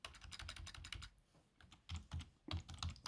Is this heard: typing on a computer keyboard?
yes